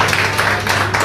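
Applause at a karate club's annual award ceremony for successful athletes, a brief, steady patter of clapping from a gathered audience in an indoor hall, with a low hum beneath.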